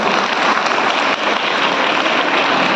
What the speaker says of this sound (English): let us give a round of applause for our students